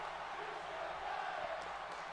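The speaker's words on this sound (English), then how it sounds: "And the crowd, of course, saying you still got it to Chris Jericho." Video game crowd in WWE 2K18 chanting during a wrestling match after a moonsault off the top rope, a steady loud wash of massed voices throughout with no clear break.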